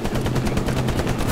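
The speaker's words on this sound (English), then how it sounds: "Celebratory bazooka shots." Rapid gunfire from the World War II shooter game Hell Let Loose, loud and continuous with dense repeated bursts that fill the whole moment.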